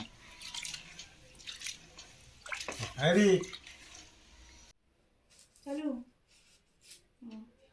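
Water splashes into a cooking pot in a short, close burst, with light dripping before it and a few soft voices speaking afterward.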